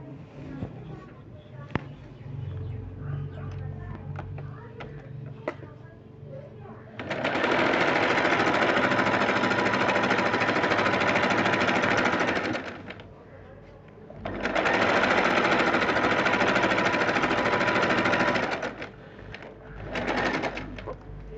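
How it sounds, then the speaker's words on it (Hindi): A sewing machine stitches the side seam of a kurti in loud, steady whirring runs: a long burst of about five seconds, a second run of about three seconds, and a short final spurt, with quieter gaps between them. "इसी तरीके से दूसरी साइड पर भी सिलाई लगाएंगे।"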